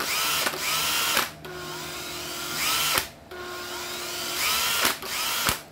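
A used Japanese cordless drill with hammer function runs in repeated bursts of about one to two seconds, a smooth, steady whine that spins up and stops abruptly, close and alone.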